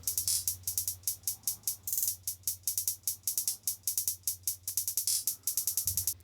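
Extra trap hi-hats in the drop of an electronic track: rapid crisp ticking hats in rolling, stuttering patterns over a low steady bass hum, fairly quiet, no voices.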